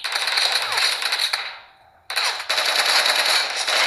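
Rapid automatic gunfire from a mobile shooter game played on a Samsung Galaxy S21 Ultra rattles loudly, breaks off in a brief lull, then resumes in dense bursts.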